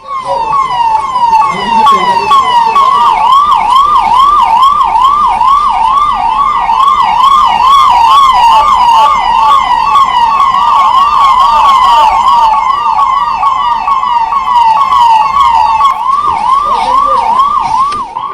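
A loud ambulance siren wails continuously in a fast, repeating up-and-down pattern, close by and dominating the whole stretch.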